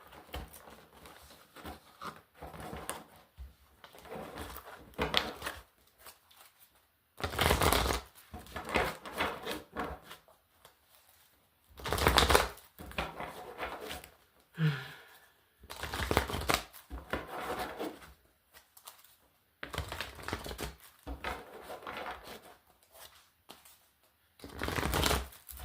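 Tarot cards are shuffled by hand for a full moon spread, in repeated crisp riffling bursts separated by short quiet pauses, close and clear.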